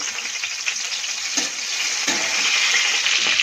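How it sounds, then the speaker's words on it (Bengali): Green chillies dropped into hot oil crackle and sizzle loudly and close up, a dense continuous frying hiss with a few sharper pops, and no one talking. "আমি এখন কাঁচা লঙ্কা ছেড়ে দিচ্ছি এর মধ্যে।"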